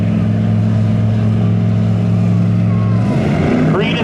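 A 1978 Chevy Corvette and a Chevy Camaro sit at the line for spectator drags at Seekonk Speedway, loud low engine drones holding steady close by, then shifting and climbing as the cars pull away, with an announcer talking over it.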